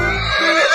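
Horse neighing from a 3D cartoon animal animation: one loud, close whinny with a wavering, descending tone that lasts under a second and carries no voices over it.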